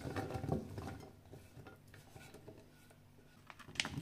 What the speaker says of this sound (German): das Gemüse habe ich geschnitten, das kommt jetzt in die Auflaufform rein.